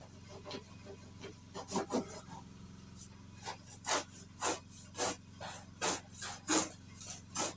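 A sharp hand saw rasps back and forth through a plywood board in steady, regular strokes, close and fairly loud over a low background hum.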